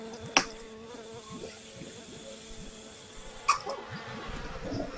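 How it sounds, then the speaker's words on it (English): A swarm of mosquitoes makes a continuous whining insect buzz as a sound effect in a tabletop roleplaying session, steady and moderately loud, with a couple of sharp clicks. "all the mosquitoes start swarming on you"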